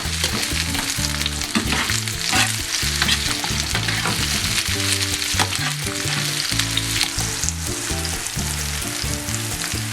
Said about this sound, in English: So my pepper has been frying for a while.